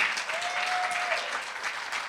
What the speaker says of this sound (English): can you give a big round of applause to Sunila Harsur for her excellent leadership this year?